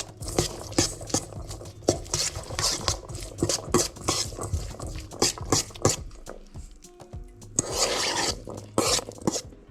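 A spoon stirs a black bean taco filling seasoned with salt and coriander, scraping and clinking in a bowl or pan in quick, repeated close strokes that go on steadily with brief pauses.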